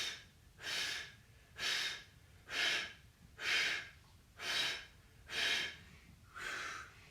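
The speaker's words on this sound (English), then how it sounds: "Take a deep breath in, and then breathe out into your stomach." Seven slow, even breaths, deep inhales and firm exhales in steady rhythm, close and clear during a core workout with belly pulled in and glutes squeezed, no talking.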